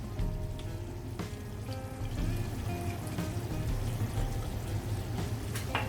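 Squeezed tamarind water splashes and trickles steadily into a pot of simmering Thrissur-style varutharacha sambar, a soft, continuous pouring sound close by with no talking.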